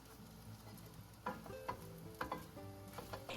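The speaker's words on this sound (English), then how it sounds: "Add a little bit of oil to a hot pan and pan fry the eggs we have prepared earlier." Prepared eggs pan frying in oil in a hot pan, a quiet steady sizzle broken by several distinct spatula scrapes and taps against the pan, no voices.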